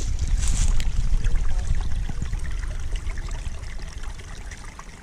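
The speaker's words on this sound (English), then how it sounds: "once again, the babbling brook. I'll be quiet here, you can even hear it." A babbling brook flows steadily beside a remote trail campsite, a continuous close gurgle and trickle that fades slightly toward the end, with no voices.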